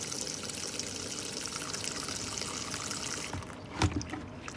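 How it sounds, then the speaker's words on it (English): Water from a hose or tap running into soil substrate materials to saturate them, a steady close trickling and pouring that thins out near the end, followed by a brief handling bump. "Just letting the water run, trying to get it all in there."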